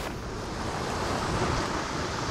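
Shoreline water in the video game The Forest, a continuous broad wash of surf with wind-like hiss, steady and fairly loud with no distinct breaks.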